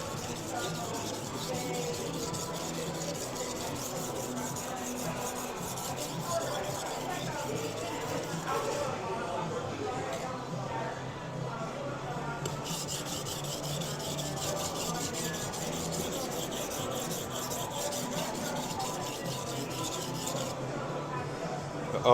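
A knife blade rasps steadily across a coarse whetstone in continuous, even grinding strokes, quiet and close, with brief pauses between passes.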